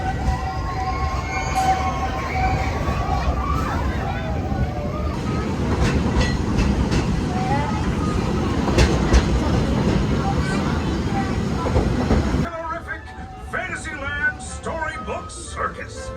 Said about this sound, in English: Now we were going to ride the train one stop to Fantasyland